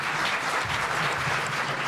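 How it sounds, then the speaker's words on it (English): An audience at a Homage to Guru cultural event claps steadily for the performing groups, a brief, even burst of applause from a seated crowd. "Can we have another round of applause for them"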